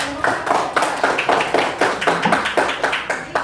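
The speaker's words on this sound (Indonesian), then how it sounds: "Oke, aplaus dulu untuk kelompok 1." A small class applauds a student discussion group, with steady rapid hand claps close by and evenly paced for a few seconds, no talking over it.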